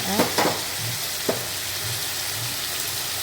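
Four chopped tomatoes sautéed in a pan over spices, a continuous close frying sizzle broken by a few sharp stirring scrapes.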